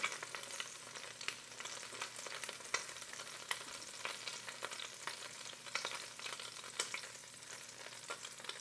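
Meatballs shift and sizzle in the basket of a Ninja Foodi air fryer, with soft fat crackle and light scraping and clicking as they are turned. The sound is faint and close, and no one speaks.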